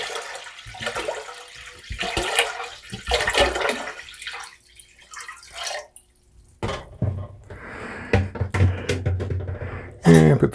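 Water for cranberry wine is poured into a cooking pot in uneven splashing bursts with short pauses between them, followed by more continuous gurgling pours near the end.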